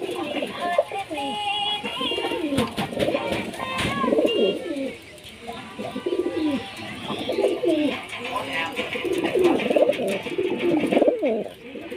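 Pure local Indian desi pigeons coo repeatedly in a loft, their soft rolling calls overlapping steadily with a few chirps, while someone talks over them throughout.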